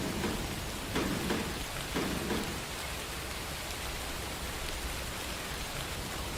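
Video game rain in the Run 8 train simulator hisses continuously, a dense wash of drops with a few soft thumps early on, evenly loud from start to finish.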